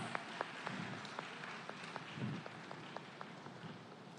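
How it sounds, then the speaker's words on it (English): Applause from a conference audience greeting a student called forward, a faint, steady patter of many hands clapping that lasts the whole stretch with no voices over it. "Please give her a round of applause."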